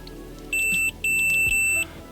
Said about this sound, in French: Quand ça fait contact, ça bip.